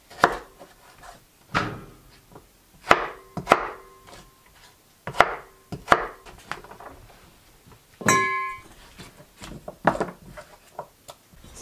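A knife cuts German butterball, red and purple Viking potatoes on a board during a remote Alaska ice fishing trip, a series of close, sharp thuds at an uneven pace with a brief clattering rattle midway.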